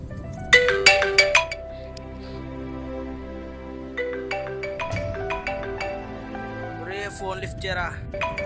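A phone ringtone plays a melodic repeating tune with bursts of rhythmic notes, fairly close and moderately loud, with a short gap before it resumes.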